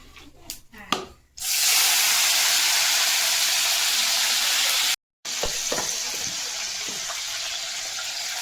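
Panch phoron, bay leaf and chilli hit hot catla fish oil in a pan: a few clatters, then a loud, close, steady sizzle that cuts out briefly and resumes.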